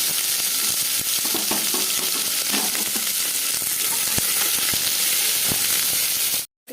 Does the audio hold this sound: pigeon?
no